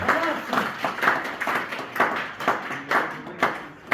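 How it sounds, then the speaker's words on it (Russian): Audience at a school award ceremony claps in rough rhythm, a run of moderately loud, evenly paced bursts, with faint voices mixed into the background. "давайте с бурными аплодисментами поздравим"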